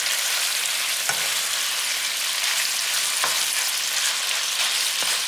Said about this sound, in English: So turn your meat, let it brown on the other side.